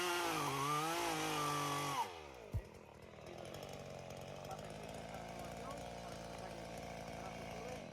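A chainsaw revs loudly and cuts through a branch of a 500-year-old olive tree, then drops to a lower idle as the cut finishes.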